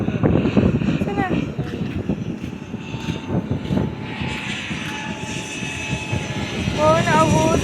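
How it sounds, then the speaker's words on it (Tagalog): A loud, steady roar from an airplane engine as it comes in to land at El Nido, with voices chatting excitedly over the noise. "Nabutan natin yung may maglaland na airplane!"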